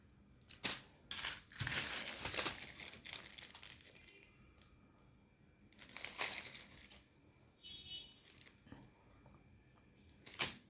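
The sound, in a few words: plastic bag crinkling while showing a necklace inside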